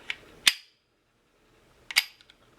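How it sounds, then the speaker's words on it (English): The slide of a Kimber 1911 pistol snaps forward to chamber a round, heard up close as two sharp metallic clacks about a second and a half apart in a quiet room. "when the slide comes forward, it's going to pick up the back of the round and carry it straight forward into the chamber"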